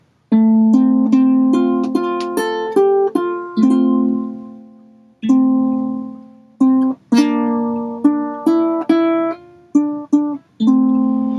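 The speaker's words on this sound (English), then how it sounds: "So that's why I'm only playing sometimes partial strums." A ukulele plays the melody of Kanaka Waiwai with short partial strums, notes ringing clearly and stopping in uneven phrases with brief pauses between.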